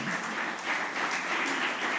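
A church congregation claps and applauds in praise, a continuous moderate wash of clapping heard from within the room, fairly even throughout.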